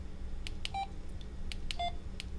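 Short electronic key-press beeps from an EnGenius FreeStyle2 cordless phone, about eight brief tones spaced irregularly over a steady low hum, close and clear with no talking.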